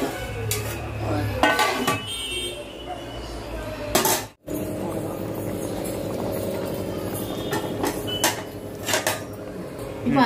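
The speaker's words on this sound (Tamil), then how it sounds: "கொஞ்சம் தட்டு போட்டு கொடுக்கலாம்." A plate set as a lid onto a pot of chicken biryani cooking in a kitchen, with several sharp metallic clinks and clatters, a brief silence, then more scattered knocks over a continuous background hum.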